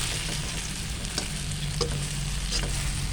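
Banana slices fry in oil close by, sizzling and crackling steadily in a continuous hiss with small pops and no talking.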